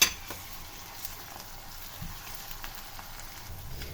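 Onions fry in a pan with a faint, steady, even sizzle and a few light crackles, continuous and alone at low volume.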